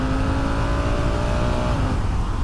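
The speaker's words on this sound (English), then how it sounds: "Into a tight left hand bend in 5th gear, if I hard on the brakes, I'm down to 2nd gear ready to come out of the corner" Honda Africa Twin CRF1100L DCT motorcycle braking hard from fifth gear into a tight left bend, engine note stepping down through close, loud downshifts over steady wind rush.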